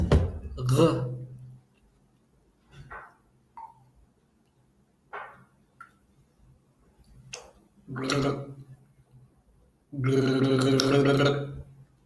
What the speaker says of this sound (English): you need to just know how you can gargle the water down your throat